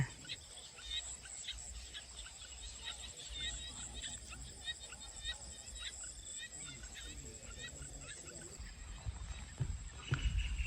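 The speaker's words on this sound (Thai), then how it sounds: "เสียงกบเสียงเขียดทองยังมาแรงมากเนี่ย" Frogs and golden frogs call from rice fields at dusk after a storm, forming a dense, steady chorus of overlapping chirps and trills that carries on throughout with insect-like buzzing beneath.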